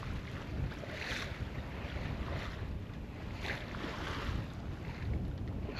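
A 34-foot sailboat with a new rig sailing among the Dodecanese Islands, steady rushing wind buffeting the microphone with water swishing along the hull in continuous broadband noise, no voices.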